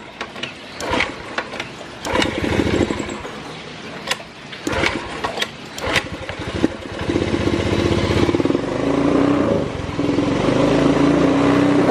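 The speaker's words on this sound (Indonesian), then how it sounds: "Kita tahan dulu gasnya biar oli yang di mesin tadi naik dulu ya" A Honda Beat FI scooter with a sputtering fault runs with stuttering, uneven revs at first, then settles into a steady, sustained drone as the throttle is held open, close up and with no talking.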